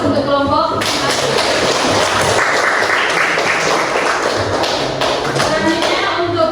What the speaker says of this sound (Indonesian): Dan semuanya kita berikan aplaus untuk kelompok 1.